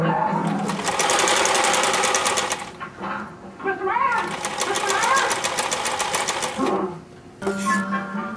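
A home sewing machine stitches fabric in three rapid mechanical bursts, each a dense run of needle chatter separated by short pauses, close and fairly loud.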